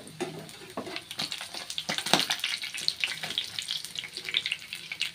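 Dried milkfish fries in hot oil, with a dense crackle and sizzle and scattered sharp pops of splattering grease close by and at a moderate level, with no talk.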